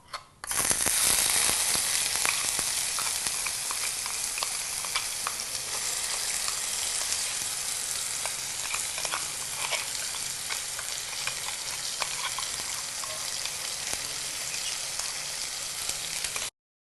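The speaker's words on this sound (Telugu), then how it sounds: "ఉల్లిపాయ పేస్ట్ పచ్చివాసన పోయే వరకు మనం ఆయిల్లో తాలింపులో ఫ్రై చేసుకోవాలి" Loud, continuous sizzling and spattering of onion paste frying in hot oil in a pan, with occasional scraping from stirring and no voices.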